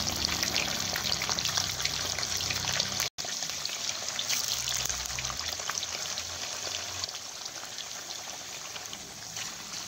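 Hot oil crackles and sizzles steadily at a moderate level while collard greens and paneer cook, with a brief drop partway through before the frying hiss resumes.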